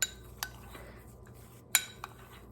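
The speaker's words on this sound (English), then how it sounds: "I'm just kind of shaking it off the end of the spoon" A spoon tapped against a bowl to shake off mayonnaise while making classic deviled egg filling: a few sharp, light clinks spaced apart over a quiet background.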